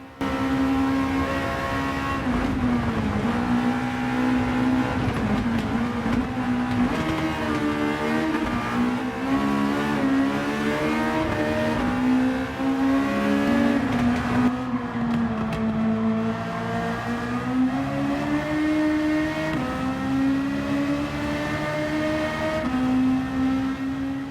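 In Gran Turismo 7, a swapped 319-horsepower car engine drones continuously at close range, its pitch rising and falling as it revs. The revving carries on for about 24 seconds with no talking over it.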